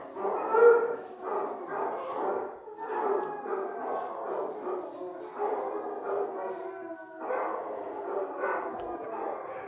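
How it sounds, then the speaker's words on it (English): Several dogs howl together in long, overlapping wavering cries with a few yips, fairly close and loud, rising and falling in waves with brief pauses, heard alone without talk. "I have all this howling in the background"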